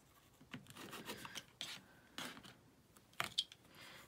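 A rotary cutter run along a quilting ruler to trim excess fabric over foundation paper gives several soft, close scraping rasps with small clicks between them, faint and irregular, with no voices.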